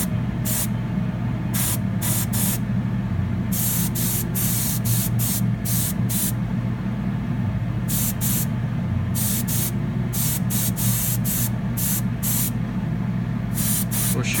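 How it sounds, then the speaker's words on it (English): Spray gun painting a 1/64 scale 2002 Silverado model, steady close hissing bursts of varying length repeated throughout, over a constant low drone. "as I spray it, I'm trying to dry this paint as quick as I can"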